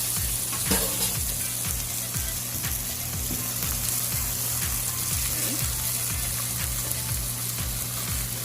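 Sausage frying in a pan with beef bouillon powder and half a cup of water: a steady, close sizzle with bubbling and a light crackle runs throughout at an even level, and there is no talk.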